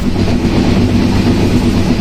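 Passenger train running on the rails from Dhaka's Kamalapur toward Tangail, heard from inside as a loud, steady rumble with rhythmic clickety-clack of the wheels throughout.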